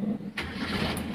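A 1981 Mitsubishi Colt T120 engine cranks briefly and catches, settling into a loud, close running rumble within about a second.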